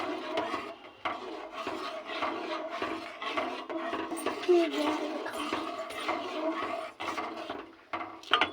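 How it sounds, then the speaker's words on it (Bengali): Payesh, a rice pudding, is stirred continuously in a pot, giving repeated scraping and rubbing strokes with a soft, thick bubbling texture, close and steady throughout. "এবার অনবরত নাড়ব।"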